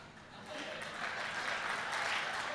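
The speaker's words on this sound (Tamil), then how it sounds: "இதுக்கு தான் நல்ல கைதட்டு வருது" An audience at a comedy debate held at a book fair bursts into applause that swells and holds as dense, moderately distant clapping.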